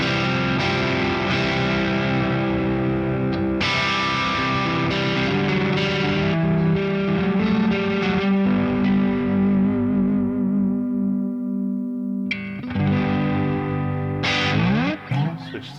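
An electric guitar played through a Tone City Sweet Cream overdrive pedal rings out in gritty, sustained chords and single notes with a warm driven edge, loud and close, with brief pauses between phrases.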